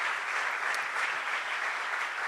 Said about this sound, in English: a big, huge round of applause for Estrella Damm for hosting us tonight